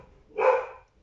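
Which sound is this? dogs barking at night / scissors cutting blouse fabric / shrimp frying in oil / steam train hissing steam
dogs barking at night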